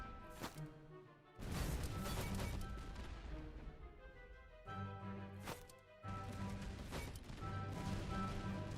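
Gunfire and heavy impacts in Master of Command, a Napoleonic-era strategy game with French cavalry, come as several loud bursts of crackling shots and crashes at irregular intervals over a low battlefield rumble.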